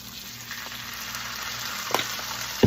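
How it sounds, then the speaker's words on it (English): Garlic frying in butter in a pan on a stove turned down to medium makes a steady, fairly quiet sizzle, ending with a couple of sharper clinks. "we're going to throw in some of our garlic"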